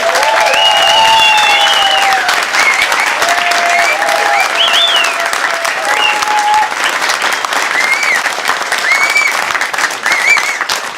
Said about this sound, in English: I would really like just for them to have an absolutely bigger applause than we have given ourselves now.